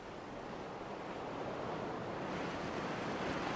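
Continuous sea surf rolls and washes in the horror exploration game Yomawari 3 at night, a steady broad roar with no breaks, heard alone without voices.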